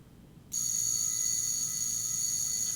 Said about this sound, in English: That bell just rings.